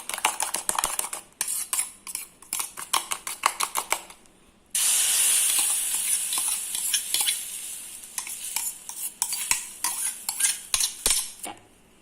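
A spoon stirs beaten eggs with salt, pepper, curry leaves and coriander in a bowl, clinking and scraping in quick bursts, with a brief steady hiss partway through.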